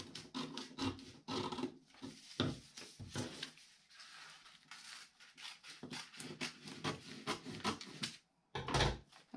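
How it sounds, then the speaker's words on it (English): Scissors snip through a paper template for a papier-mâché Jack Skellington bust, making a string of crisp, close cuts with short pauses and rustling paper between them, with no voices. "we're going to take our scissors and cut out"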